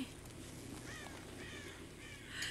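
A white crow caws in the video game Questarium, several faint, raspy calls standing out over a steady background hiss.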